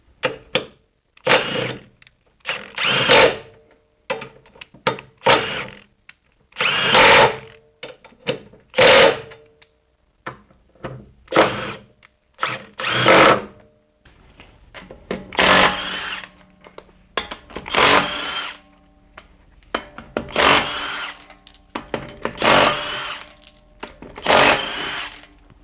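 A Milwaukee 3/8-inch mid-torque impact wrench works on a car's axle nut in repeated bursts of rapid hammering, each burst a second or two long, separated by short pauses, close and loud throughout.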